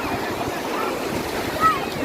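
Ocean surf washing in steadily under wind noise, with a close, even wash of waves and a voice talking over it.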